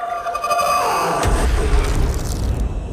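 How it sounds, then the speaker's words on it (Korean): A film gunshot lands as a sudden deep boom about a second in, followed by a loud, heavy rumbling tail that fills the rest of the moment. "허공을 가르는 총알."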